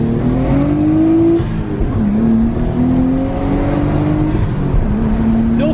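A Nissan Skyline running more boost pulls hard toward redline, its loud, close engine note climbing steadily through the gears with brief dips at each shift before rising again.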